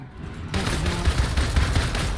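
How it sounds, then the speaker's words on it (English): Rapid bursts of automatic gunfire from firearms in the Marvel's Avengers video game, a sustained loud volley of closely spaced shots kicking in after a brief quieter moment and continuing without a break. "These guns are going to make it so much easier to take guys out"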